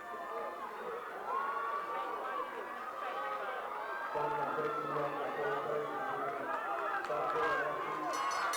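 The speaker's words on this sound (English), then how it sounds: "great cheers from the crowd as these boys enter their last lap around" Crowd noise from spectators at a school track and field championship race, a steady broad roar of cheering and chatter that swells slightly partway through, with a sustained tone and some calls mixed in.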